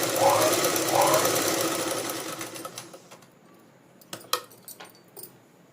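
Sewing machine stitching a pico edge along a saree, a loud steady whirring run for about three seconds that then stops, followed by faint scattered clicks and handling noises.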